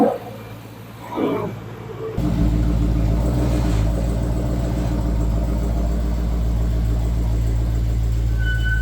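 A 2022 Dodge Challenger Scat Pack 1320 fitted with a Hellcat airbox starts up and then settles into a loud, deep, steady idle rumble. A few faint sounds come before the engine catches.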